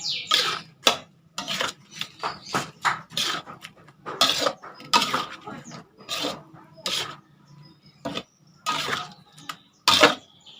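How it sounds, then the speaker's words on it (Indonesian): Beef rendang ingredients with bay leaves being stirred in a pan: repeated scraping and clanking of a utensil against metal, bursts of rasping strokes in an irregular rhythm, close and clear, with no talking. "kita aduk sampai merata"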